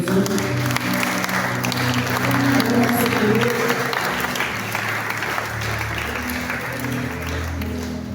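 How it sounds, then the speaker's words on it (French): A church congregation applauds and cheers for God during a French-language prayer service, with steady, dense clapping and crowd voices throughout. "Est-ce qu'on va acclamer pour nos Dieu?"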